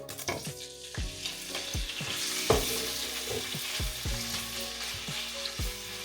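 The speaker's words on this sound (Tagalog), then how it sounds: "Ipa-fry ko lang first yung chicken breast guys." Chicken breast frying in hot oil in a home kitchen pan, a steady close sizzle with sharp crackles and pops throughout, no talking.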